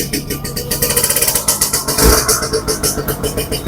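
A Suzuki RC100 motorcycle engine starts and runs, a loud close two-stroke putter with rapid regular pulses that briefly swells as the throttle is blipped, then settles back to a fast idle.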